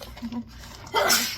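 A short, breathy sneeze bursts out near the end after a moment of quiet background murmur.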